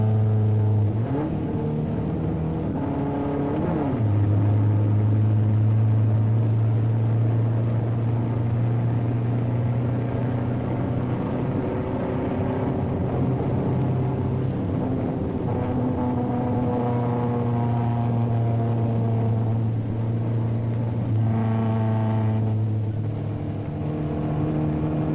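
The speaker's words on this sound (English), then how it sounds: "As a sports car, the Mustang demonstrated excellent roadability on the closed-circuit road course at Daytona Beach." A Ford Mustang sports car laps the closed-circuit road course at Daytona Beach, its engine droning loudly and steadily throughout, the pitch rising and falling as it accelerates and shifts gears.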